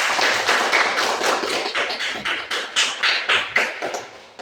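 Classroom applause from a group of students, a dense, fairly loud patter of hand claps in rough pulses that gradually thin and fade toward the end.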